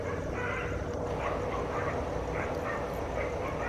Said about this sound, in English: I'm hearing barking.